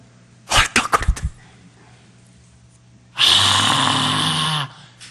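A man imitates someone panting and gasping for breath with his voice: a quick cluster of sharp breathy puffs, a pause, then one long, loud, raspy drawn breath that lasts over a second.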